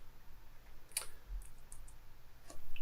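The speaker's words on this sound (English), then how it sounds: "Excuse the clicking on the keyboard." Faint, sparse clicks on a computer keyboard, a few soft isolated taps spread across a couple of seconds over a quiet room hiss.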